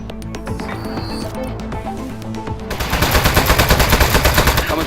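Video game gunfire triggered by a gyroscopic motion controller: rapid repeated automatic shots that grow louder and denser partway through, forming a steady rattling burst with no talking.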